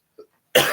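A single short, sharp cough bursts out close by after a brief faint throat noise, then trails into a rough, breathy tail.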